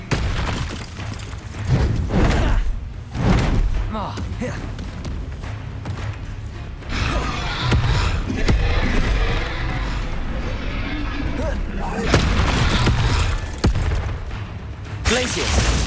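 Spell blasts from Bombarda in Hogwarts Legacy, several heavy booming explosions spaced across a chaotic fight with crackling bursts and crowd-like noise, while a voice talks throughout.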